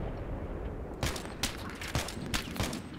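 Battlefield 3 multiplayer gunfire: four or five sharp, broadband shots land at irregular intervals over a steady low rumble, close and loud, with no talking.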